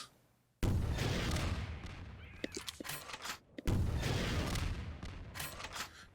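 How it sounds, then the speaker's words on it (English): Rockets exploding in the Half-Life 2 VR mod on Highway 17: two loud, booming blasts about three seconds apart, each with a long rumbling decay, plus scattered smaller cracks and impacts in between. "here's a good use for the rockets"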